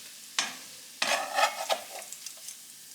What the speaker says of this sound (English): I'm going to saute the onion